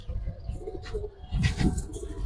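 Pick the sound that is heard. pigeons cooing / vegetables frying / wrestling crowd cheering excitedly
pigeons cooing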